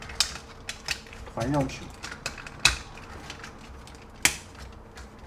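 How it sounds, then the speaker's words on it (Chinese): Plastic joints of a KO Transformers PE Optimus Primal gorilla toy click and snap as it is transformed by hand, with several sharp separate clicks under a man's speech. "拆开这个关节，把中间的这里多段的 M 字折叠板打开"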